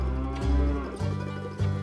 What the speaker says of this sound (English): we had fun helping the locals bring the cattle in for a checkup.